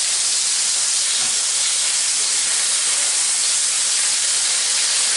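Chicken cutlets sizzle in a little oil in a Teflon sauté pan, a loud, steady, hissing fry that stays constant throughout with no voices.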